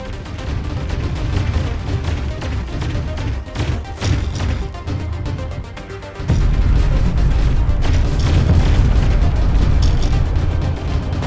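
Sentry being destroyed in a video game: heavy, overlapping booms and crashing explosions rumble continuously and loudly, growing denser and stronger partway through, with no voices.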